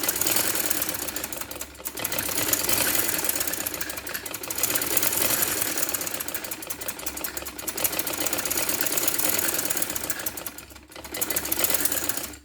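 A sewing machine runs a double stitch on a small girl's clothing, a steady rapid mechanical whir that continues in long bursts with brief pauses, close and alone.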